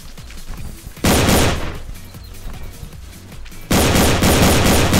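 Video game AK rifle fire in two loud automatic bursts, the first short and the second running to the end, with softer game ambience between them.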